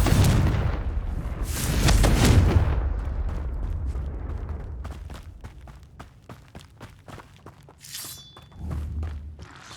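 Explosion spells Bombarda and Confringo cast in Hogwarts Legacy, heavy booming blasts with rumbling low thuds, followed by a string of sharp cracks and impacts and a final muffled detonation.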